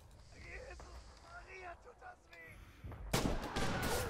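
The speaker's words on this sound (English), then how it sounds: "And I just shot him in the face" A gunshot in the Red Orchestra 2 video game, a sudden loud broadband blast near the end that rings on, following a stretch of game noise with talking voices.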